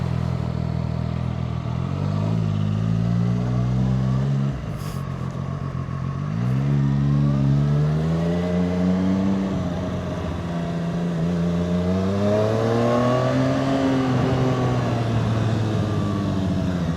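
A Zontes 703R motorcycle accelerates hard through several gears, its engine note climbing in pitch then dropping at each upshift, loud and close with steady wind rush throughout.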